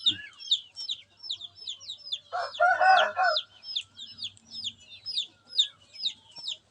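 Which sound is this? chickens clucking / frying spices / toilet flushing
chickens clucking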